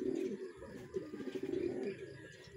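Racing pigeons cooing in a loft, soft throaty rolling coos close together, faint and continuous, with low voices in the background.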